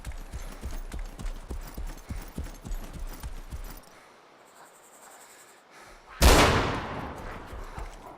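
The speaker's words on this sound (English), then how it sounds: "It's got to be the loudest gun in the world" A very loud gunshot in DayZ Breaking Point rings out alone after a lull, with a long decaying tail, following a run of rhythmic thudding footsteps.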